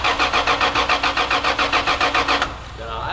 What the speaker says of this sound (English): your Supra doesn't turn on